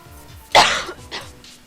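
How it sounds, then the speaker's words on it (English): A person coughs hard once, close and loud, followed by a smaller second cough, with faint game music looping quietly underneath. "Hopefully I can edit those coughs out."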